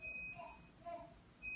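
A voice mimics a refrigerator's electronic beeping in short high tones, with a thin steady tone and faint talk nearby.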